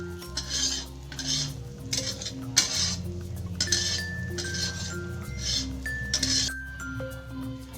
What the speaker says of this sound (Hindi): अब इसे अच्छे से मिक्स कर लेंगे।